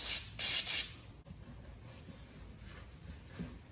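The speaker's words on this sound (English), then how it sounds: "I'm going to use some brake clean to clean off the rotor from any degreaser or junk from the wheel" Brake cleaner hisses from an aerosol can onto a bicycle's rear brake rotor in two or three short close bursts, followed by quiet rubbing and faint handling noise.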